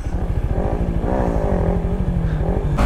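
A Yamaha MT15 motorcycle with its stock exhaust is ridden on an evening road. The engine drones close and loud in a steady rapid thrum, pitch rising slightly, with wind noise over it.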